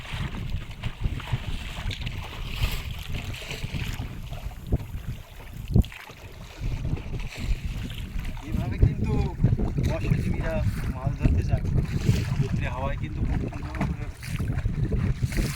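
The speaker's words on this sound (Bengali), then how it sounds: "হাওয়াই কিন্তু টেনে নিয়ে যাচ্ছে নৌকোটা পালের মাধ্যমে" Steady wind rush and water noise from a sailboat, driven by wind in its sail, moving across open water in the Sundarbans, with people talking over it throughout.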